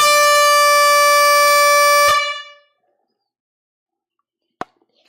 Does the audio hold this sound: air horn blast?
yes